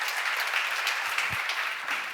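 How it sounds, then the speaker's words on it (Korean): A church seminar audience claps steadily for a couple of seconds, a dense patter of many hands filling the room. "박수!"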